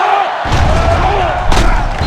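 Stadium crowd noise in the NCAA 06 college football video game at a Georgia Tech at Miami game as the defense urges fans to their feet: a loud, steady roar of the crowd swells partway through.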